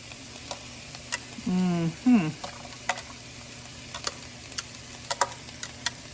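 Chopped vegetables cook in a pan for a chicken casserole, with a soft, steady sizzle under faint stirring clicks and scrapes, while a voice briefly makes a sung or hummed sound early in the clip.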